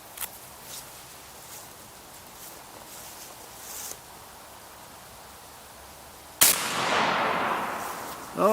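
One sharp, loud report from a 12 gauge extreme air rifle firing a slug, fired outdoors in the cold after several seconds of quiet ambient noise, with a bright ringing tail.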